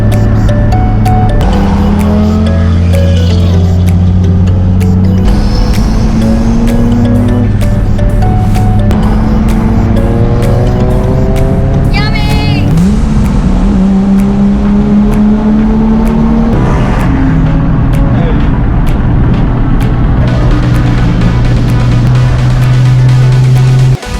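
Several cars pulling away in convoy from a car show, engines rumbling and revving loudly up close through repeated gear changes, continuous throughout with no talking.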